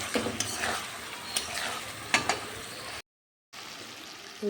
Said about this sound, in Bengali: হালকা হাতে একটু নেড়ে নেবো।